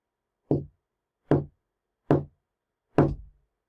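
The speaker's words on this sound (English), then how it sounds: "And then he heard the knocking sound again." Four distinct, evenly spaced knocks, sharp and hollow, each one isolated against silence.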